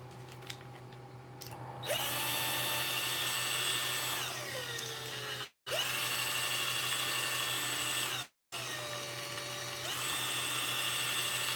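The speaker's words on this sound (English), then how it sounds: "let me get my drill" A power drill whirs up to a high, steady whine in several bursts, slowing and dropping in pitch before each stop, with two brief silent gaps between runs and no talking.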